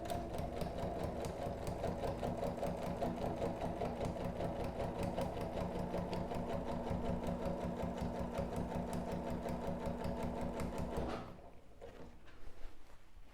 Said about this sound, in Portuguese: Aí você vai costurando e vai sempre se guiando por essa linha aqui